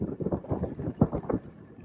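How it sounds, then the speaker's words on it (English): Strong west wind on a fishing bank buffets the microphone in gusty, rumbling bursts, rising and falling unevenly throughout. "just to show you guys how windy it is right now"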